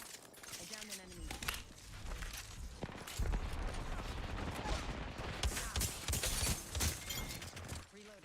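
Rapid bursts of video game gunfire crackle and pop almost continuously, mixed with game effects, while players chat over the top.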